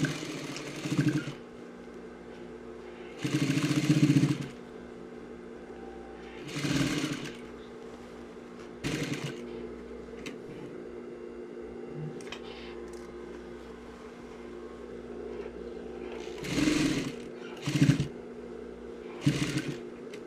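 An electric sewing machine stitches a waistband onto trouser pieces with a 1 cm seam, giving several loud whirring bursts of a few seconds each, separated by quieter stretches of low hum and occasional handling clicks, close by.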